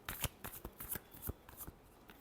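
Tarot cards shuffled by hand, close and soft, with irregular crisp riffles and taps spaced through the moment, no talking.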